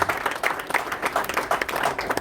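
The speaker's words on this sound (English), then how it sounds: "Big round of applause for Krishna, looking fantastic in the white." Audience applause at a Matrix Fight Night 8 MMA press conference, a steady patter of many hands clapping throughout, moderately loud with faint crowd noise and no clear speech.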